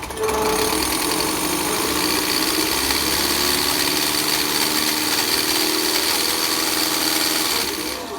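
A Ford 6610 farm tractor's diesel engine idles loudly and close by. Its steady, rough, vibrating rumble stays constant for the whole stretch and then drops off slightly at the very end.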